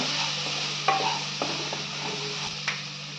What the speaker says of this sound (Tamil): இதையும் கொஞ்சம் நல்லா வதக்குங்க